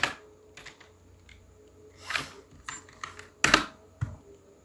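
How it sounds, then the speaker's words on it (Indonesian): Someone types on a computer keyboard during an Indonesian-language typing test, with scattered quiet key clicks and a few sharper, louder strikes spaced irregularly. "tes mengetik Indonesian tenfastfinger.com"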